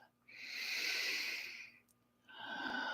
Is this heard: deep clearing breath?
yes